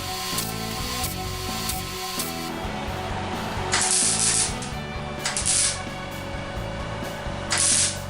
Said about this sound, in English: Again, you can see me putting a bunch of spot welds in.